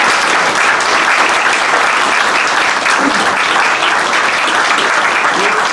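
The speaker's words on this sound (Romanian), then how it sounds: "Haideți să-l aplaudăm!" Loud, dense applause from an audience at a political gathering welcoming a party leader, continuous uninterrupted clapping throughout.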